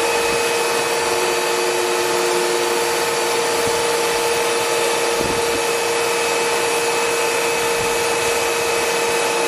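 A Kearney & Trecker 310 S-15 horizontal milling machine runs its cross feed at rapid traverse, giving a steady, loud mechanical whine with a constant tonal hum that holds throughout.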